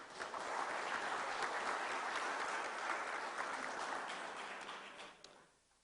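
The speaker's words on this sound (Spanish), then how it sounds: "por favor un fuerte aplauso para todos ellos" Audience applause following a call to honor a civil engineering group at a university lecture on canal hydraulics, a steady broad clapping from a sizable crowd that holds for about five seconds before tapering off and fading out.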